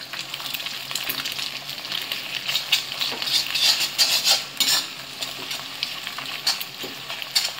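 Egg being stirred into chicken fried rice in a hot pan gives a steady, close sizzle with a brisk scraping texture and occasional light utensil clinks against the metal, with no voices.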